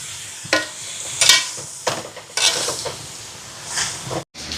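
A spoon scrapes and stirs food around a metal cooking pot in a few separate bursts, with a light sizzle in between, close and moderately loud.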